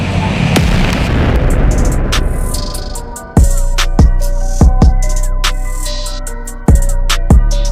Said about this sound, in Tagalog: Meron ng paputok ulit